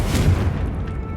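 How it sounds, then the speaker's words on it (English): A Confringo fire spell explodes in Hogwarts Legacy, a single deep booming blast that rolls out and fades over about a second, with no talk over it. "Confringo"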